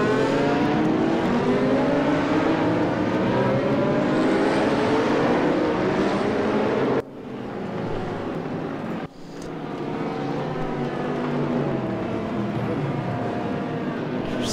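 A pack of GT3 race cars in the RaceRoom racing game, running at Portimao: dense, overlapping engine roar with pitch sweeps as cars pass, loud and continuous, with two abrupt dips in level.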